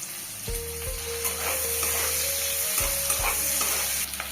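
Onions sizzle steadily in a hot kadai, a continuous crackling fry broken by a few knocks and scrapes of stirring.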